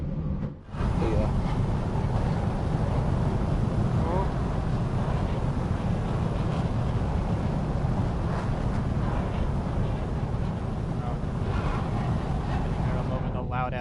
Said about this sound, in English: I'm over the loud ass engine.